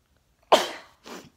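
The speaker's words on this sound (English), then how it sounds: "And I'm going to sneeze a lot because" One sharp sneeze, brought on by pollen, bursts out close and sudden, then a softer second burst follows, with near-silence around them.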